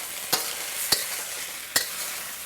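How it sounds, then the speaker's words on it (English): American fried rice being tossed in a hot pan, with a steady sizzle and three sharp scrape or clack hits as it is turned. "Now we're just gonna toss everything together."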